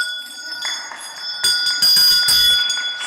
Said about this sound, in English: this comes from LaDonna, this is our awesome bell